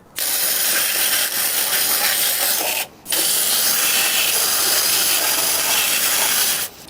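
A garden hose jets water through the plates of a tumble dryer condenser: loud, continuous hissing spray in two long bursts with a brief pause between, close and unaccompanied by speech.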